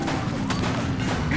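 Gunfire in the police video game The Precinct: a short burst of sharp shots rings out over a busy game soundscape and a shouted voice.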